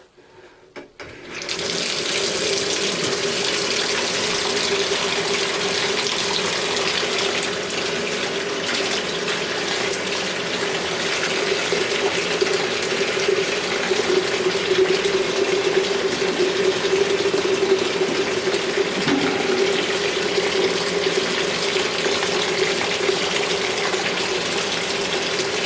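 Steady water streams from a newly installed Moen faucet, a continuous loud rush into the sink that starts abruptly and holds evenly throughout with no talking.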